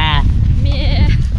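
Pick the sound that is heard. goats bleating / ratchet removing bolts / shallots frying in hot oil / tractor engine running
goats bleating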